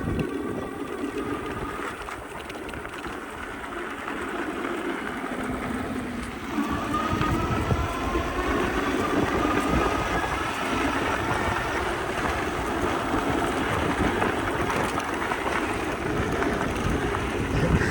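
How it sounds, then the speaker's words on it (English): A TST R002 moped-style e-bike rides over loose gravel, producing a continuous broadband rumble and crunch mixed with steady wind buffeting on the microphone that grows slightly louder partway through. "Seems to be taking on this loose gravel pretty well."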